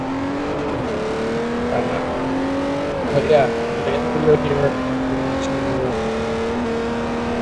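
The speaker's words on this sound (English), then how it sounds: "you guys can probably hear the car sound in the background." A 1972 Mercedes-Benz 300 SEL in the video game Forza 4 hums at a steady engine drone that shifts pitch in a few rising and falling steps, with brief talk laid over it.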